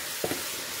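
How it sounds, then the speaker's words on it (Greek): Food sizzles in a frying pan as it is stirred together with salt, pepper and spices, with a steady faint hiss and a couple of brief louder scraping bursts from the stirring. "Ανακατεύουμε."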